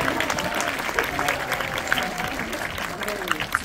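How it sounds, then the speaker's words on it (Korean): Steady audience applause for the film director at a post-screening Q&A, a dense crowd clapping continuously at moderate volume with a few sharper claps standing out. "박수 한번 보내드릴까요?"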